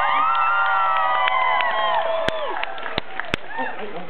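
A live audience at a street trick show yells, whoops and cheers loudly together, with a few sharp claps or bangs near the end.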